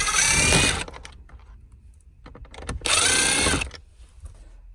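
Small screws are driven out of an Acura center console with a power driver, giving two loud whirring bursts of about a second each, separated by quieter clicks and handling noise.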